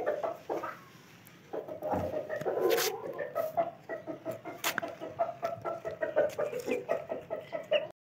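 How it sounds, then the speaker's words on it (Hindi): A large Aseel rooster and chickens cluck while being fed, close repeated clucks and short calls in an irregular rhythm, with a few sharp handling noises between them. "इधर से उठाते हैं और ये डालते हैं बड़े वाले असील मुर्गे को"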